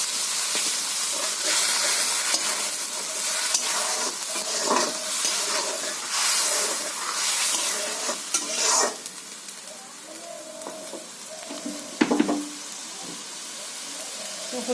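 Blender rinse water poured into a hot pan of egg and brinjal curry, sizzling and hissing loudly with steam, fading into gentler frying as it is stirred, with clinks of a utensil.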